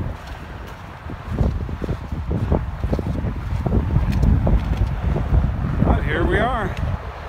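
Strong wind gusts buffet the microphone on a Pacific Crest Trail hiking path, a steady roaring rumble filling the clip while a hiker speaks briefly over it.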